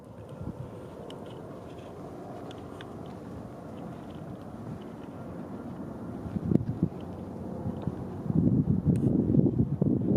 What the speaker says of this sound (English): If there's a lot of wind, I apologize. It got a little gusty out here, unfortunately.